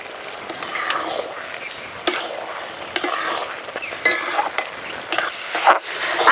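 Black raisins sizzle in two spoonfuls of ghee for white lentil laddus while a spoon stirs them, a steady close frying hiss broken by repeated scraping strokes against the pan.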